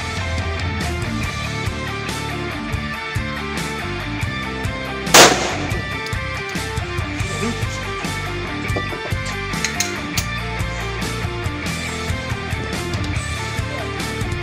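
A police officer's shooting practice, with one loud gunshot cracking sharply mid-clip over continuous backing music.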